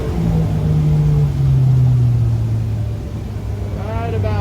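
A 2003 HarborCraft (Jetcraft) 18 boat with a Yamaha 75 outboard running hard at about 5,500 RPM into a turn, a loud steady engine drone with water rush and wind, and someone talking over it near the end.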